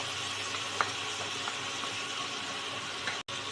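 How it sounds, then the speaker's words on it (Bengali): Masala frying in a pan on a home stove while being cooked down with a little water, giving a steady, even hiss with a few faint clicks and no talk. "মশলাটাকে ভালো করে কষিয়ে নেব"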